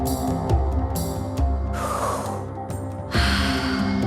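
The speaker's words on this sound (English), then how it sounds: "Let's go for 30 breaths." Deep, full breaths in a rhythmic breathing exercise, with two clear breath rushes heard over sustained soft musical tones.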